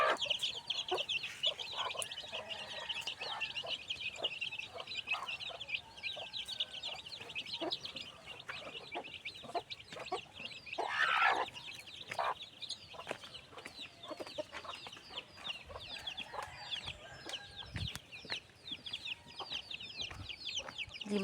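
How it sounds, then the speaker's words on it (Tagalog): Newborn chicks peep at feeding time on a farm, a steady chorus of high, thin chirps running throughout, with occasional louder bursts and a few low knocks nearby. "It's time to feeding. Newborn chicks."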